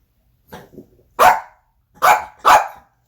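A dog barks three times in close succession, loud and near, after a couple of softer low woofs, with no talking over it.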